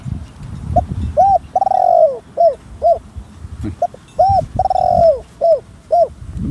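A large zebra dove coos repeatedly in short rounded notes and longer drawn-out phrases, loud and close, with faint rustling and background noise beneath.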